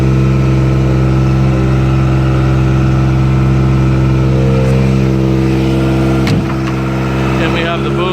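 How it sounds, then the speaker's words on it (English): A Kubota pony motor drives the boom of a forestry bucket truck, giving a steady, loud mid-pitched engine hum that runs throughout and shifts slightly near the end. "Boom is working and operating flawlessly on that Kubota pony motor."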